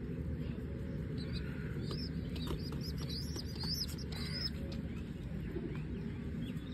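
Young pigeon chicks give thin, high squeaky chirps in short bursts over a steady low background rumble, faint and fading out after a few seconds.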